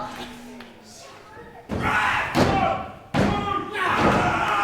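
A wrestler is slammed onto the ring mat by a suplex at a live wrestling show in Guildford, landing as two heavy, booming thuds a second and a half apart, with a commentator talking over a lively crowd.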